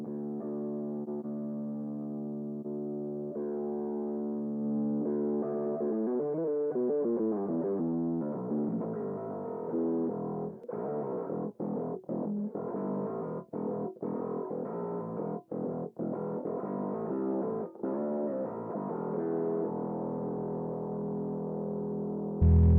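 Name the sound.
bass distortion pedal, VMT mode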